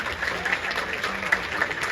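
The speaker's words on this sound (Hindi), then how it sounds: "एक बार उनके लिए जोरदार तालियां हो जाए।" An audience claps vigorously and without pause, steady, loud applause from a gathered crowd with faint voices mixed in beneath.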